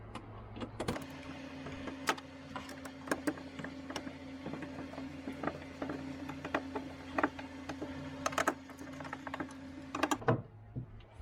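Screws being tightened on a light fixture, giving a steady run of small scraping clicks and ticks close by over a faint mechanical hum, with no talking.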